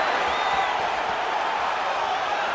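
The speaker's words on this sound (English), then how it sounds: "And you hear the crowd react every time they come together" An arena crowd at the UFC 294 bout between Islam Makhachev and Alexander Volkanovski gives off a dense, continuous roar that stays loud and even throughout, with no single cheers or claps standing out.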